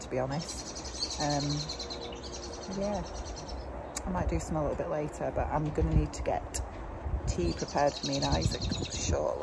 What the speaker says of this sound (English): Listen to the birds tweeting.